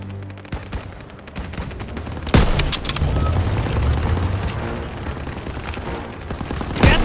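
Rapid gunfire and machine-gun bursts crackle from behind in Call of Duty WWII, loud and close, with a sharp report midway and continuous firing throughout.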